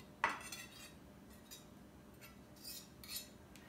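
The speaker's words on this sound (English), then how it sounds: "I'll get my measuring spoon and measure it." A metal measuring spoon clinks sharply once against a dish, followed by a few softer taps and rattles, quiet and close, with no talking.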